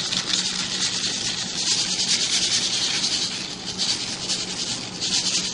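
Sprouting seeds being spread by hand across a plastic Easygreen sprouter tray, a steady close rubbing and rustling hiss that runs continuously without a break.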